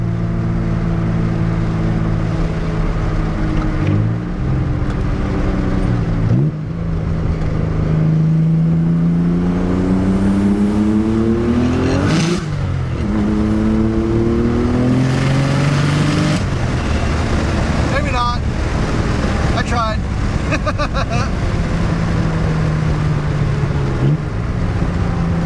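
Nissan 300ZX twin turbo with dumped wastegates accelerating hard in second gear on concrete under a bridge: loud, close engine with rising harmonic sweeps, several gear-change dips, and sharp wastegate chatter and crackles near the end.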